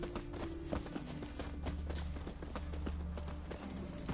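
Hooves beat in a fast, steady clip-clop rhythm as a horse gallops in The Witcher 3 video game. The hoofbeats are close and continuous over dense game ambience.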